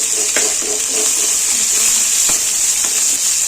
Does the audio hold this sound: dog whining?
no